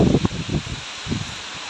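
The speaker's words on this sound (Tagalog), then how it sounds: "tignan niyo naman kung gaano kalakas yung hangin" Gusty wind from Typhoon Paeng rushes through leaves outside a house in the Philippines in loud bursts, rustling and hissing close by, with no voices.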